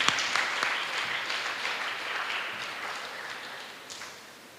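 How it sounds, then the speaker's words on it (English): Audience applause welcoming a speaker at a palliative care event, a soft, moderately distant round of clapping that starts briskly and gradually thins out toward the end. "Let's welcome Madam with a great round of applause"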